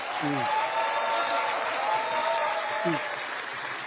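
Audience applause at a Korean party rally, a steady wash of clapping throughout with a faint voice rising briefly at the start and again near the end.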